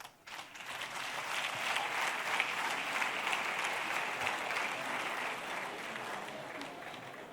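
A crowd at a comedy show claps in a broad, even wash of applause that holds steady throughout, a little distant and at moderate volume.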